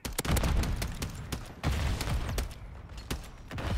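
Rapid bursts of gunfire from Modern Warfare III, repeated volleys of loud, close shots spread across the whole stretch with short gaps between them.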